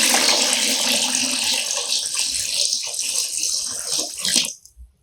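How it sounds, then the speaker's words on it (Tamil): Water pours steadily into a thick homemade fabric conditioner mixture, a loud continuous splashing gush lasting several seconds before cutting off abruptly. "கொஞ்சம் கொஞ்சமா ஊத்திட்டு நம்ம தண்ணி ஊற்றணும்."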